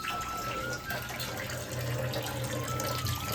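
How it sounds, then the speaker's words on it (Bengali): Boneless chicken washed under a running kitchen tap: a steady stream of water splashes and gurgles over the meat throughout, at moderate volume. "সেই চিকেনটা এখন ধুয়ে দিচ্ছি"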